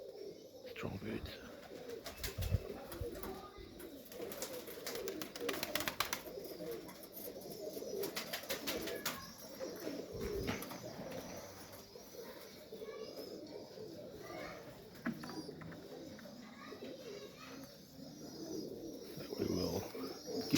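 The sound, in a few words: Serbian Highflyer pigeons cooing in breeding loft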